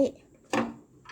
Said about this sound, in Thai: ใส่หอยลงไป ปิดฝาไว้